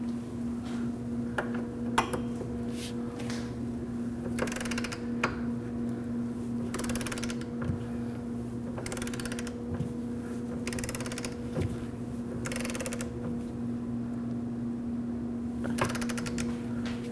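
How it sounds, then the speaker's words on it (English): Torque wrench ratchets a rear brake caliper bolt tight on a 2011-2012 Kia Optima, repeated clicking bursts in short runs against a steady low hum, fairly quiet and close, no speech. "And now we're gonna go ahead and get it torqued down."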